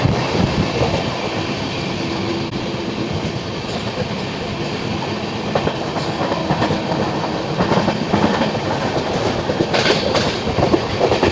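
The Padmavati Express passes at a station in a steady, loud rumble of rail wagons with rhythmic clickety-clack of wheels, close by and sustained throughout.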